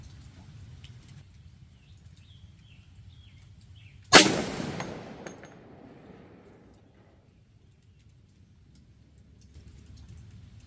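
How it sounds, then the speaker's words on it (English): A single sharp shot from a Bear Creek .350 Legend rifle with a 20-inch stainless upper, a sudden crack that rings and decays over a couple of seconds against quiet outdoor background. "I don't know how many shots I fired here"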